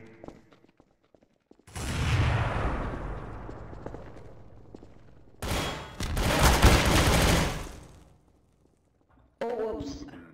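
Video game gunfire comes in loud, dense bursts, a long rattling stretch, then another heavy barrage and a final short burst, close and harsh with brief quiet gaps.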